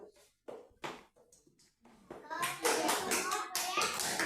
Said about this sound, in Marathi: टाळ्या वाजवायला त्याच्यासाठी